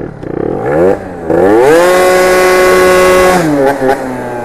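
A scooter engine revs hard while the rider lifts the front wheel into a wheelie, its whine climbing in pitch and holding steady before dropping off, loud and close with no talking.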